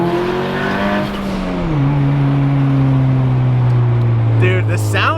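A Porsche with a straight-pipe exhaust drones loudly from inside the cabin, its engine note falling as it eases off and then holding steady, with people talking over it.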